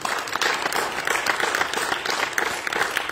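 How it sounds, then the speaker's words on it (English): A church congregation claps their hands together, a dense, steady round of applause from many people that carries evenly at moderate loudness from start to finish. "Let's give God a hand clap."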